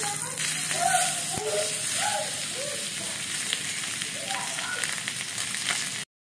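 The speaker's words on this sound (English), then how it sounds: "Add steak to the pan and cook for 3 minutes." A Black Angus sirloin steak seasoned with smoked paprika sears in a hot pan, giving a steady, close frying sizzle that carries on evenly for several seconds before cutting off.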